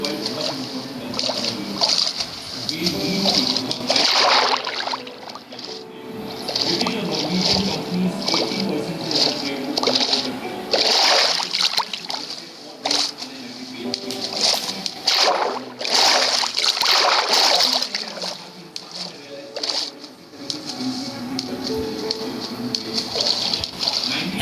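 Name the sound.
splashing through water in Minecraft video game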